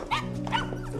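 A dog gives a couple of short, close yips or barks over a low steady hum, brief and moderately loud.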